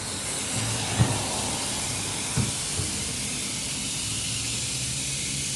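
Suction pump drawing out power steering fluid from a Toyota Revo, a continuous loud airy hiss with a couple of brief thumps, steady throughout.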